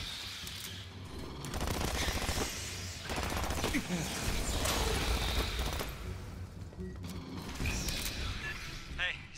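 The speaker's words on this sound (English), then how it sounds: "I heard gunfire." Rapid bursts of video game gunfire from Aliens: Fireteam Elite rattle in quick volleys alongside mechanical clatter, with voices speaking in between.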